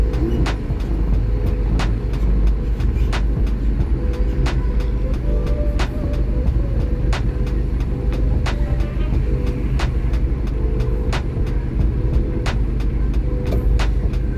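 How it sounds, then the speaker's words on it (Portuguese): Trucks and cars pass along a newly opened highway ring road in Carapina, a continuous loud traffic roar with a steady rumble and repeated clicking ticks throughout, no talking. "Podemos ver que é bastante caminhões."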